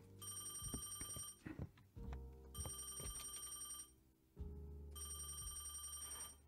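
A telephone rings repeatedly in the point-and-click detective game Crime or Punishment, three long bright ringing bursts separated by short gaps, heard over a steady low game soundtrack with scattered thumps.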